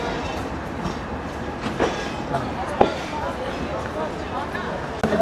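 A Rupsha Express intercity train at Chuadanga railway station gives off a steady rumble and rattle of railcars, with a few sharp clanks, while crowd noise and voices carry through the station.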